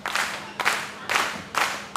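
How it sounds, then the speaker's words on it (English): A wrestling arena crowd in Houston cheering and clapping for the Lone Star champion, coming in repeated loud surges of roaring noise about every half second, heard up close. "This crowd getting behind the Lone Star champion here in the early goings."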